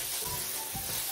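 Chicken masala sautéing in a pan, a brief close burst of dense sizzling with a soft scrape of stirring, without any voices.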